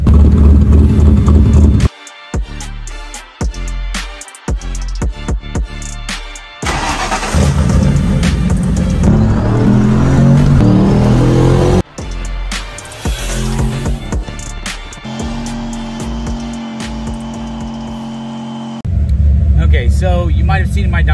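A turbocharged car with a chambered muffler revs repeatedly in loud, close bursts, with a deep raspy exhaust note and brief pauses between pulls.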